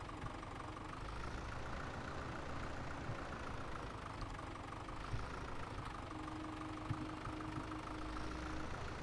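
A small tractor engine in Farming Simulator 17 idles steadily, a low continuous drone with a mid-range hum that stays constant and fairly close throughout, with no talk over it.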